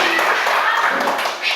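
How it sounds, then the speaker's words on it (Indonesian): Classroom of children clapping hands together at a teacher's prompt, a dense, steady burst of claps lasting under two seconds with voices mixed in. "Tepuk tangan dulu."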